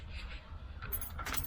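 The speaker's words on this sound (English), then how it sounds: "Let me turn the key on" Car keys jangle briefly in an ignition while the key is turned on, a small metallic rattle near and fairly quiet over a low engine-bay hum, during an EFI install on a small-block Chevy.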